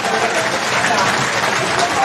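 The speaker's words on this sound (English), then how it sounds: "The supporters stand to their feet to applaud both teams as they go in at half-time." Supporters at a hurling club championship semi-final stand and applaud both teams going off at half-time, a dense, continuous wash of distant crowd clapping and cheering with a commentator talking over it.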